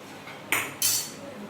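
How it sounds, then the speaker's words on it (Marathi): Potatoes tipped into a cooking pan in a home kitchen land in two quick, bright clattering bursts a fraction of a second apart, with a low steady room background around them. "आतां हांव पोटेटो घालता"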